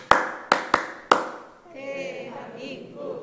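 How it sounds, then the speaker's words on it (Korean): Sharp hand claps at a church service, four quick loud claps in an uneven rhythm, followed by a voice talking. "박수 5번 이렇게 소리가 들리면은 대한민국이 자동으로 나온다면"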